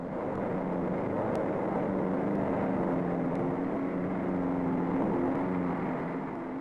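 Race cars at the 1955 Indianapolis 500 roll slowly in parade formation behind the pace car, a steady, droning engine hum from many cars at once, held back and even throughout.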